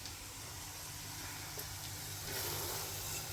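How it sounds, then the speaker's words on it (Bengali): Spices with turmeric and salt are being fried in a pan for bhuna khichuri, giving a loud steady sizzle and hiss throughout that swells slightly near the end, with no talk. "মশলাটা কষানো হয়ে গেল।"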